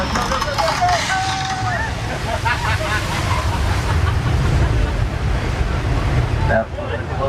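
A theme park water cascade effect pouring onto a tram on the Universal Studios Hollywood tram tour, a loud, steady roar of rushing water with voices audible beneath it, ending with a brief dip near the close.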